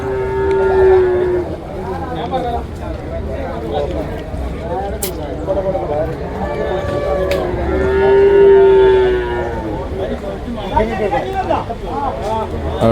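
Gir cattle calves moo repeatedly at a busy livestock market, long lowing calls rising over steady crowd chatter and someone talking nearby throughout.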